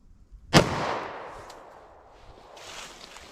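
A single loud .40 S&W Hornady Custom gunshot fired into layers of denim, clear ballistic gel and medium density fiberboard; a sharp crack followed by a long echoing tail that fades over a few seconds.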